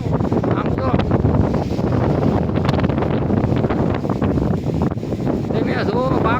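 Strong wind during a rainstorm in a village, gusting hard against the microphone in a loud continuous rumble, with someone talking over it.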